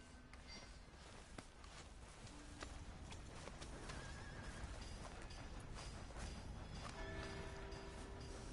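A horse in the Red Dead Redemption 2 game whinnies and snorts over steady clip-clopping hooves, with no talking, the animal sounding close and clear throughout.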